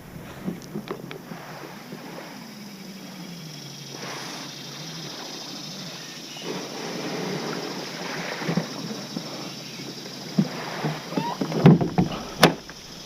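Kayak paddle strokes swishing through water while crabbing, close and steady with wind noise, a few sharper splashes and knocks near the end.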